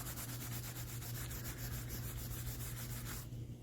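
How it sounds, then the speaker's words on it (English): A rag loaded with mink oil wipes down a rusty Queen fixed-blade knife, producing a continuous, close, raspy rubbing that runs steadily for about three seconds and then stops. "It will put some on a rag and wipe it down."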